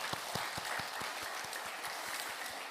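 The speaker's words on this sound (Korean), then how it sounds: "부모님에게 감사하는 박수 드리겠습니다" A church congregation applauds steadily, a dense wash of clapping that holds at an even level throughout, with soft low thumps beneath.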